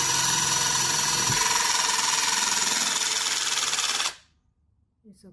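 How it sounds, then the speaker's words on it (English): A Questok riveting system joins sheet metal with a loud, steady mechanical whir that runs for about four seconds, then cuts off abruptly into near silence. "Okay, we're testing just one test. The riveting quality is perfect."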